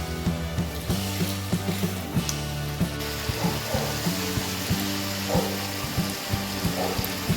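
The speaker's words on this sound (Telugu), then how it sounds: "కొంచెం చికెన్ ఆయిల్లో మగ్గనివ్వాలి." Chicken sizzling in hot oil with onion, turmeric and coriander powder for an Indian-style chicken biryani: a steady frying hiss with a utensil tapping and scraping the pan at regular intervals.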